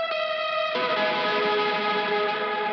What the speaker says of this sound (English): On top of that bit crushed guitar, I have some lead layers going along with some distortion